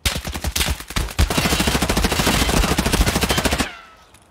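Rapid automatic gunfire in Escape From Tarkov, a loud, close, continuous burst of dense shots lasting several seconds before cutting off abruptly into quiet.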